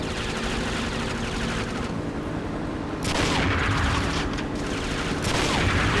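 Dense automatic gunfire from the James Bond shooter 007 Nightfire, aimed at a car wheel, roaring continuously with a louder burst partway through over heavy background noise.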